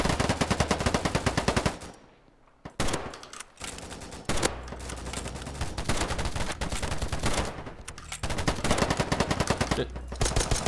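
Rapid automatic gunfire from the shooter game Polygon comes in loud sustained bursts, with a brief lull and a few scattered shots before dense firing resumes.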